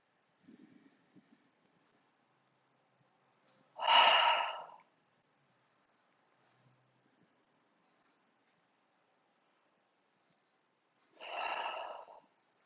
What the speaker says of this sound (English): for 3 breaths, inhale through your nose. Exhale, sigh your breath away